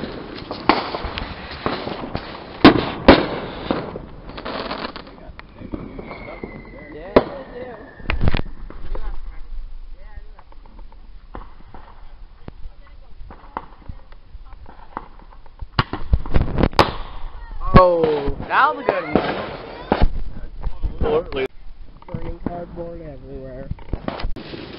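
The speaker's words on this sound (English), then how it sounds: "Here goes an artillery shell." Artillery shell fireworks exploding outdoors, with sharp loud bangs and crackling bursts clustered near the start and again later, scattered pops in between, with people talking and exclaiming around them.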